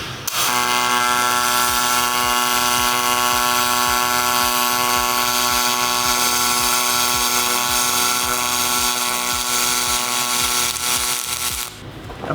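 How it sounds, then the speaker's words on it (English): A spool gun runs a steady pulse wire-feed weld with a continuous buzzing, pulsing hum for about eleven seconds, loud and close, stopping abruptly near the end. "That might be one of the most enjoyable wire feed welding experiences"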